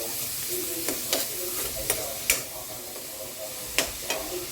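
Grated carrot fries in a pan with a steady close sizzle. Sharp spatula scrapes and knocks come at irregular intervals, and no one speaks.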